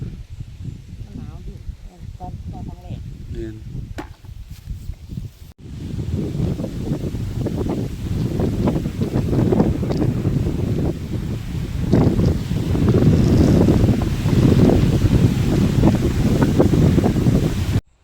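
Wind blows hard by the water, a rough, continuous rush and buffeting against the microphone that grows louder after a few seconds, with people talking at the start.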